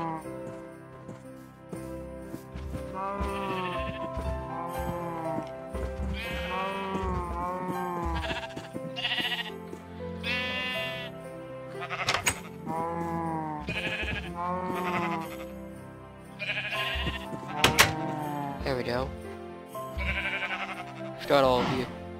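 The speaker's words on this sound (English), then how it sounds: "Why do my sheep keep getting out?" Blocky Minecraft sheep bleat repeatedly in a game setting, their wavering baa calls overlapping with one another while someone talks over them throughout.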